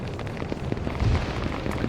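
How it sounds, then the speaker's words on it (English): Explosions from X-Wing bombing runs in a modded video game, a dense rumbling barrage of blasts with a heavier low boom near the middle, steady and moderately loud throughout. "You just hear the explosion"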